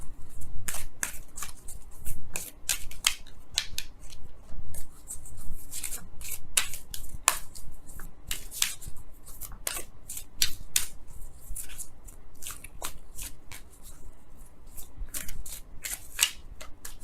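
Romance Angels oracle cards are shuffled by hand in a steady run of crisp riffling snaps and slaps for about seventeen seconds, close and fairly loud, with no voices.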